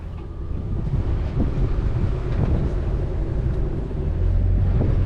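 A Catana 41 catamaran under sail off French Polynesia, with steady wind buffeting and water rushing past the hull in a loud, unbroken low roar.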